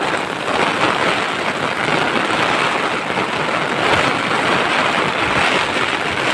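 Heavy rain falls outdoors in the Konkan countryside, a loud, dense, continuous roar of drops with steady intensity and no voices.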